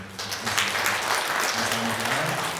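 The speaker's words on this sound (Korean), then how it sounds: "우리 박수로" A congregation claps during a Sunday church service, a steady, moderately loud patter of many hands lasting a few seconds, with a faint voice or tone underneath.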